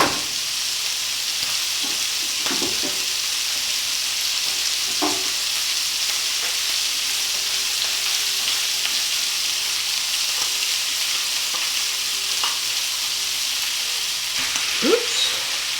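Rice sizzling and frying in a hot pan for fried rice with red bell pepper and peas, a constant soft hiss broken by occasional scrape and stir clatters, no voices.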